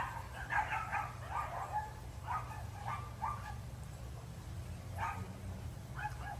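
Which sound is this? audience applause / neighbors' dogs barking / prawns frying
neighbors' dogs barking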